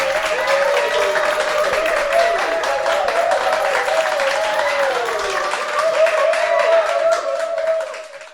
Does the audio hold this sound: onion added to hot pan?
no